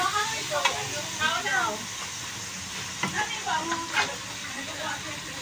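Igado, a Filipino pork and liver dish, sizzling and hissing as it is fried and stirred in a pan, with steady frying noise under several people chatting nearby.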